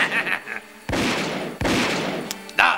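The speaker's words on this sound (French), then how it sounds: "Attention, Gordon, il nous tire dessus." Cartoon gunfire aimed at animated characters, two loud sharp bursts of shots with ringing tails, close and separated by a short pause, with brief voices in between and after.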